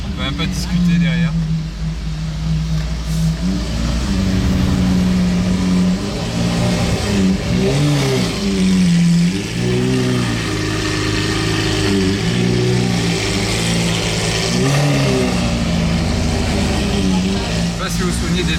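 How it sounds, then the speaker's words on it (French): A Lamborghini SV supercar with a Capristo exhaust, running beside a GTO, revs loudly and repeatedly, its deep engine note rising and falling close by, with people talking underneath. "c'est la SV la plus bruyante que j'ai entendue de ma vie"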